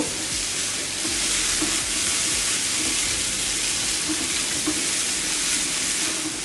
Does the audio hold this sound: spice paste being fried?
yes